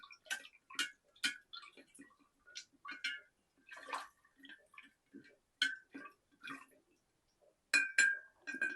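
A spoon stirs sugar into liquid for rose petal wine, making sparse, light clinks and taps against the vessel at an irregular rhythm, close by and fairly quiet, with no talk.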